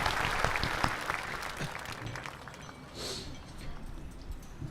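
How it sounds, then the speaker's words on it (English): A graduation audience gives a round of applause for cadets, choir and band members, a full crowd clapping at moderate loudness that gradually thins out, with a brief murmur of voices partway through. "Please join me in another round of applause for our cadets, choir, and band members."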